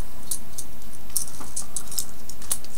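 A Transformers Armada Crumple Zone Minicon tank toy being transformed by hand makes small, sharp plastic clicks and light rattles at irregular intervals, close up and without speech.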